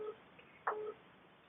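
A phone gives a short electronic beep, a brief bright tone near the middle, sitting over a quiet, faintly noisy room.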